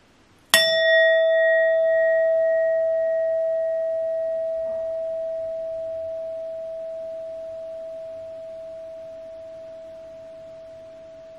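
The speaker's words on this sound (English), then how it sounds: "I will be using my sound bowl to clear the energy." A sound bowl is struck once, giving a bright metallic strike followed by a pure, steady ringing tone that slowly fades over about ten seconds in a quiet room.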